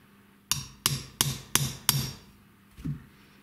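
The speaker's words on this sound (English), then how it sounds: "I'm just going to place it in this vise here to hold it while I make a little punch." A hammer strikes a center punch to mark a woolly mammoth tuner button blank held in a vise, giving five sharp, evenly spaced taps followed by one softer tap, close and clear, with no talking.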